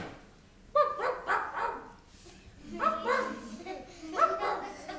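A puppy barks in short bursts, three clusters of yips spaced a couple of seconds apart, fairly close.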